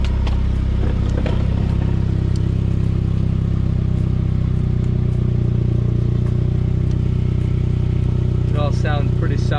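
An OG Saab 9-3 Convertible engine runs steadily after an exhaust leak patch, a low, even hum heard close, with someone speaking briefly near the end.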